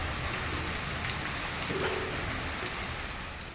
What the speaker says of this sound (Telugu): వర్షం చూడండి చితక్కుర్చేస్తుంది